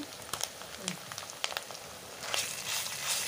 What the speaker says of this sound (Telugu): అల్లం పేస్ట్ని కూడా ఆయిల్లో వేయించుకోవాలి